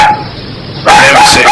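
Loud dog barking and yipping up close, a bark at the start and then a rapid burst of barks after a short pause.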